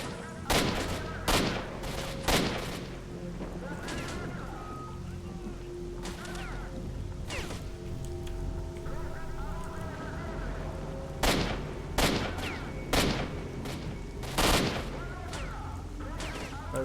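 Gunfire in STALKER: Shadow of Chernobyl, with sharp shots coming in quick bursts and single cracks scattered across the stretch over steady background ambience, some close and loud, others a bit further off.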